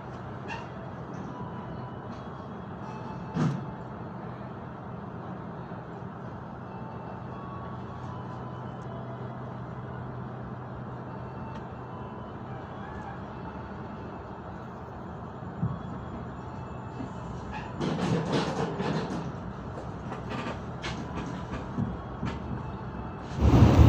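KA Bengawan passenger train pulls out of Kroya station in Cilacap at night: a steady low rumble of rolling wagons with rattling and clanks, a brief louder burst of metallic clatter near the end.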